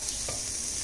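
Urad dal sizzling in hot sesame oil in a kadai with mustard seeds and cumin, a dense, even hiss throughout this short moment with a faint stir, no speech.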